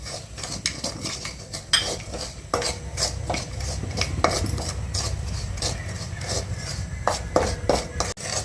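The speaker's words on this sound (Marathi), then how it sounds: "आता हे भाजत असताना आपण जे आहे त्याच्यामध्ये हे ड्रायफ्रूट्स पण भाजून घेऊयात" Semolina and dry fruits dry-roasting in a pan while a spoon stirs and scrapes them, giving frequent sharp clinks of metal on the pan over a soft rustle of grains. The sound is close and continuous.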